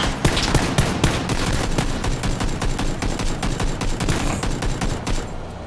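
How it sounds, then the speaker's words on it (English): Rapid video game gunfire coming from ahead, dense bursts of loud sharp shots in a steady irregular rattle that slightly eases near the end, with no talk. "boy, we're being shot at. That's from ahead."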